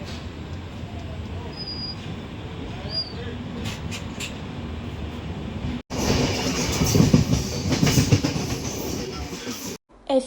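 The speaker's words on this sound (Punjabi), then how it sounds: "ਮੈਨੂੰ ਲੱਗਦਾ ਟ੍ਰੇਨ ਕਾਫੀ ਪਿੱਛੇ ਰੁਕ ਗਈ ਯਾਰ" A train rumbles steadily along the rails, its noise swelling louder and rougher partway through, with a brief cut and faint voices underneath.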